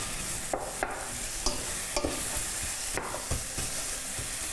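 Crushed garlic cloves cooking in a pot for vegan pasta e fagioli, a steady sizzle punctuated by several sharp utensil scrapes and taps against the pot as it is stirred.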